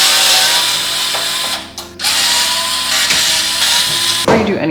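A power screwdriver whirs steadily and close while backing out the four screws of a PC case's rear fan. It pauses briefly midway, then resumes with a loud continuous buzz.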